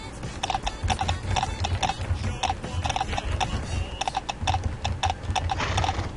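Horse hooves clip-clop in a steady, brisk rhythm in the horror game Slender Horse, each beat crisp and close, repeating continuously without pause.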